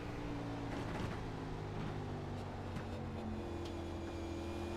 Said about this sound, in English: I don't know if you hear that throttle, but he's nice and easy on it, letting the car kind of do its thing and roll